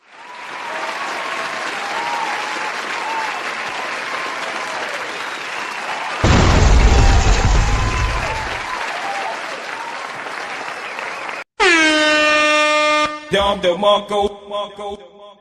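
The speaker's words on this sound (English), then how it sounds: "Give this man a round of applause" Studio audience applause lasts over ten seconds, swelling sharply midway, then cuts to a loud, blaring air horn sounding in repeated bursts at the end.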